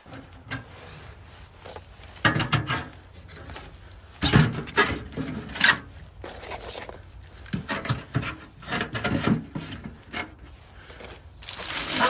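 Repeated scraping flicks of a lighter's flint wheel inside a hot tent by the stove, several short bursts spread across the time with pauses between, close and fairly loud, failing to catch.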